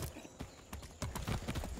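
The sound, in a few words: horse hooves clip-clopping in video game Far Cry 6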